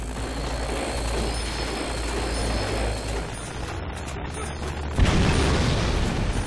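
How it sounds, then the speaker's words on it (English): A loud explosion in a video game bursts out as a sustained low boom and rumble, with a sharp louder blast near the end. "Oh, that was a loud explosion that time."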